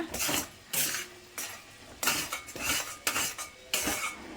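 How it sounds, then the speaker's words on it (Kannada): Halwa with cardamom powder is mixed in a pan on low flame, a spoon scraping and knocking against the metal in a steady rhythm of strokes roughly every half second, close and clear. "ಲೋ ಫ್ಲೇಮ್ ಇಟ್ಕೊಂಡು ನೀಟಾಗಿ ಮಿಕ್ಸ್ ಮಾಡ್ಕೊಳ್ಳಿ"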